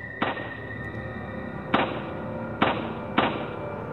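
Gunshots in the Android game Resident Evil 4: four sharp, punchy reports spaced irregularly over a steady low in-game background, each one brief and close.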